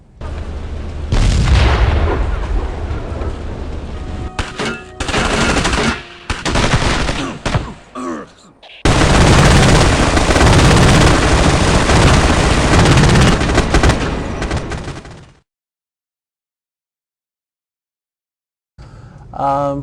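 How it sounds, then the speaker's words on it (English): Loud bursts of rapid gunfire and booming blasts from the video game Ghost Recon (2001) fill the air in long stretches, broken by brief gaps, with a voice talking over part of it. "set up a firing range and did some live weapon fires out there"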